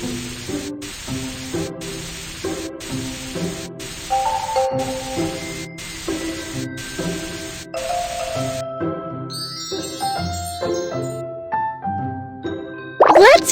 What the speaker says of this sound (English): Spray paint the doghouse with the pretty color.